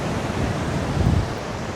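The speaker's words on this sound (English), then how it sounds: "it is so windy and it's very choppy" Strong wind gusts and choppy surf at a beach roar together as a loud, broad rushing wash, swelling slightly midway, with no talk.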